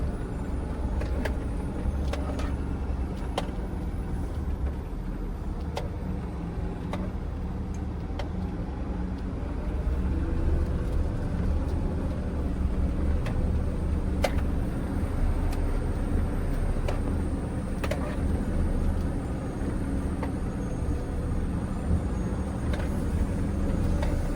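BharatBenz truck rolling down a long slope on engine brake, a steady low droning roar with constant road rumble, fairly loud and even throughout with no talk.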